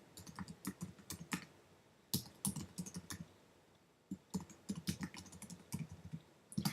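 Quick bursts of keystrokes on a computer keyboard, soft and close, broken by short pauses between phrases, with no talk.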